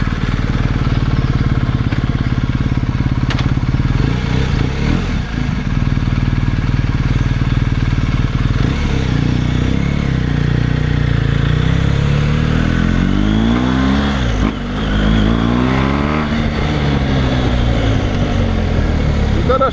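BMW R1250 GS motorcycle fitted with a Dominator Racing GP1 exhaust, DB killer removed, riding around a city block: a loud, continuous engine note with rising and falling rev sweeps partway through, heard close and alone.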